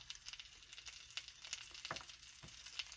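Chopped red onion bubbling and sizzling in a hot pan, a soft, steady crackle and spit with small pops, close but fairly quiet, no voices.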